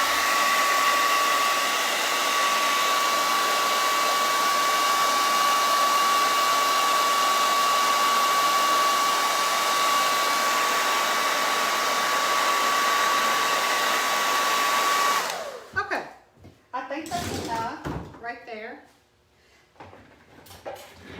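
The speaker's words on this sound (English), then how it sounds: "I'm going to run my hair dryer for just a minute" A hair dryer blows steadily with a loud, even whine for about fifteen seconds, then cuts off, followed by a few brief clicks and handling noises.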